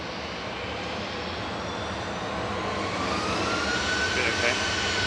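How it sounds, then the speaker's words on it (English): An EasyJet jet airliner departs Manchester Airport, its engine roar building steadily from a distant rumble to a louder, broad wash of noise with a rising whine, heard continuously without a break. "EasyJet departure."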